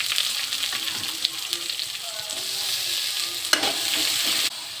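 Chopped onion and garlic paste fry in hot oil in a pan where sugar has been browned, giving a steady close sizzle broken by a few clinks and scrapes of stirring, with no speech.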